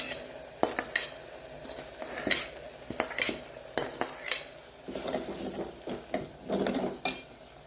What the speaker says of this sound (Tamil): இப்போ நம்ம இந்த வதக்கி வச்சுருக்குறோம் இல்லையா சுண்டைக்காய், அதை போட்டுருவோம்